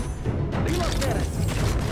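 Mechanical clicks and ratcheting of a weapon reload in the mobile game Honor of Kings, dense and continuous over a steady game soundscape, with faint voice-like sounds mixed in.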